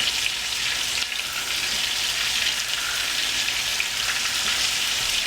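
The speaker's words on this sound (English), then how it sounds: "As you can see, it's going to start frying." Chicken frying in a pan for a Persian dish, a dense, continuous hissing sizzle with light spattering, steady and close throughout.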